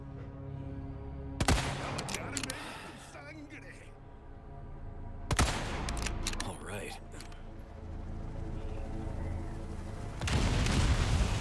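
Rifle shots in the Resident Evil 4 (2023) remake: three loud, sharp gunshot cracks spaced several seconds apart, each followed by mechanical clatter and rumbling game ambience, with a person talking over parts of it.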